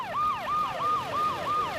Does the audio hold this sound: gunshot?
no